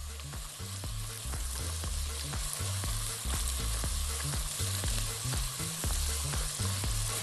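Onion and garlic frying in oil on a gas stovetop, a loud, steady sizzle with rhythmic stirring scrapes and clatters repeating about twice a second, close up with no talk.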